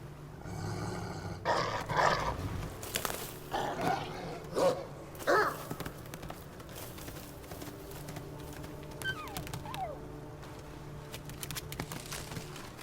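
A young dog in Assassin's Creed Valhalla lets out several short growls and whimpers over a steady low game ambience, with a few louder bursts early and quieter whines later.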